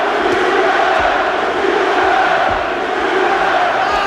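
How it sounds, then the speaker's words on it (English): A big boxing arena crowd at Eubank v. Thompson roars continuously, a dense, loud wall of shouting and cheering for Eubank that holds steady throughout with no clear single voice above it. "the crowd appreciating this work from Eubank, shouting out his name"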